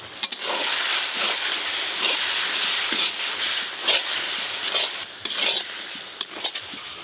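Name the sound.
ground spices frying and being stirred in a pan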